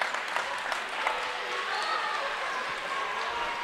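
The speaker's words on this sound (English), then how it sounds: "the student section for Westfield showed up loud and rowdy here today" Westfield's student section cheers loud and rowdy at a high school basketball quarterfinal, a dense sustained crowd roar with clapping under a commentator's voice.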